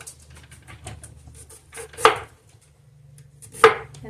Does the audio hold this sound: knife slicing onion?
yes